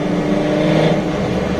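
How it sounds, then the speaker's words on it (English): A 1973 Datsun 240Z series 2 engine runs loudly and close with its exhaust valve closed, a steady, dense rumbling drone that holds without break. "This is with the exhaust valve closed, and it's still pretty loud."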